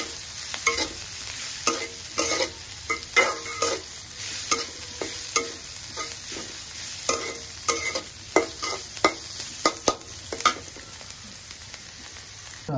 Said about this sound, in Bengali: পেঁয়াজ কুচি ও রসুন কুচি দিয়ে দেওয়া হলো। এখন কিছু নাড়াচাড়া দিতে হবে।